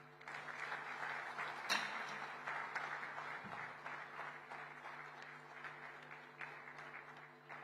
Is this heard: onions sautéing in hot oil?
no